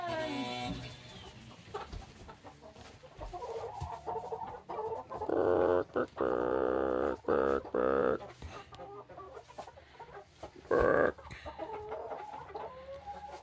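Novogen hens cluck and squawk inside an enclosed wooden chicken den restored from an old property, several close, loud bursts of clucking in clusters, with quieter fowl calls scattered around them.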